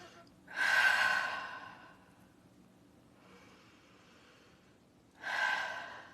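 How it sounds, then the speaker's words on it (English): Slow, deep breaths are taken during a guided breathing exercise: a long audible inhale, a quiet pause with soft exhaling, then a second deep inhale, close and alone. "So some nice deep breaths."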